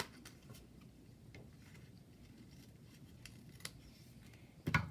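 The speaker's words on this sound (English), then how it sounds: "flip it over and use your card base as your guide to just snip off those edges" Scissors snip off the overhanging edges of card paper along a card base while making a Christmas card, a series of faint, sparse close-up clicks and cuts in a quiet room, ending with a louder rustle.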